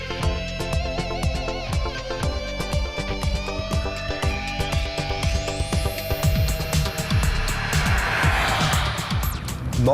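A 2010 Audi A5 Sportback with a 2.0 TDI common-rail turbodiesel drives along, giving a steady, smooth engine drone whose tone climbs and falls with speed over continuous road noise, with no talking.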